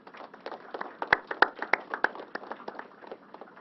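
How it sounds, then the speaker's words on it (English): Applause for workers at a New York COVID briefing, a modest round of brisk hand clapping from a small indoor crowd, steady for a few seconds. "And let's give them a double round of applause."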